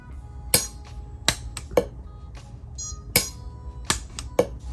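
A permanent jewelry welder zaps a thick bangle bracelet from several angles without argon gas, producing sharp, close, isolated crackling snaps spaced about a second apart over a quiet background.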